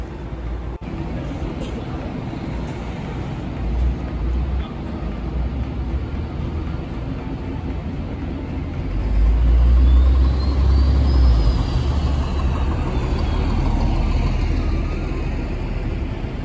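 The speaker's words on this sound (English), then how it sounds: "we are running after the tram" A deep vehicle rumble swells as a tram bound for Appenzell, Switzerland rolls by, a faint electric whine rising and falling, with voices in the background.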